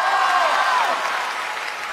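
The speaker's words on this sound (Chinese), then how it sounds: "一上来大家给予这么多掌声" A television comedy show's studio audience applauds in a dense, steady wash of clapping that stays loud for two seconds and eases slightly near the end.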